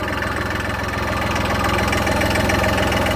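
A 40-horsepower three-cylinder turbo diesel tractor engine idles steadily and loudly up close, its low, even knocking rhythm continuous throughout with no voices.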